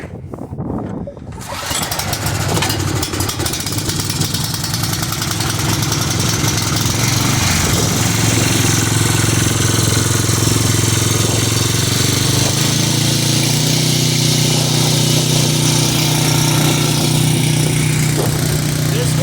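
A small engine on a side-roll irrigation mover, running on choke, catches after a brief start and settles into a loud, steady idle drone close by.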